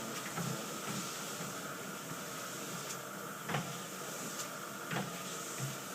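An Everything Fitness Glide treadmill runs during belt tensioning. It makes a steady mechanical hiss and whir, with a few sharp ticks and soft knocks at irregular intervals, close by and with no talk.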